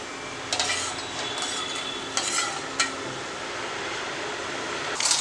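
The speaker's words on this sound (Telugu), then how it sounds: "షుగర్ మొత్తం కరిగేటట్టుగా కొంచెం తిప్పుకోవాలి" Sugar syrup being stirred in a pan until the sugar dissolves, for Hyderabadi double ka meetha: steady scraping and swirling of a spoon against the pan, with a few sharper clinks, close and moderately loud, no talking.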